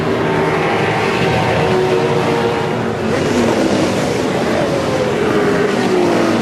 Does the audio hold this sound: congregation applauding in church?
no